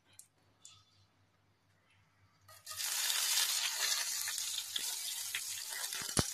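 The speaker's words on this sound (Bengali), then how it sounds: "এই যে ফোড়নটা আমি দিয়ে দিলাম একটুখানি। ফোড়ন তো রাগ দেখাবেই, একটু ছিটকে ছুটকে এদিকে চলবে" Spices hit hot oil for tempering (phoron) for a cauliflower fry. After a quiet stretch, a sudden loud, hissing sizzle bursts in and crackles steadily to the end.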